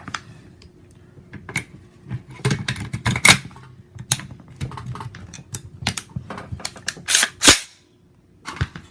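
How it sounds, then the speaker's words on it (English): A series of sharp mechanical clicks and snaps as a part of an Olympic Arms MPR 308-15 rifle is inserted and rotated until it clicks, irregular and close, with a louder clack near the end. "rotate, in, insert, rotate till I hear it click"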